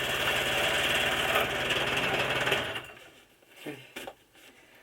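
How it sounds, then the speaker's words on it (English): A jigsaw cutting a wooden stabiliser rib for a Sopwith Camel model: a rapid buzzing, chattering saw noise for a few seconds that then stops, followed by a few handling knocks and a brief spoken word. "I use a jigsaw."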